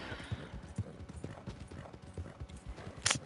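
Horse hooves clip-clopping in an even walking rhythm in the video game Red Dead Redemption 2, moderately close, with a sharper clatter near the end.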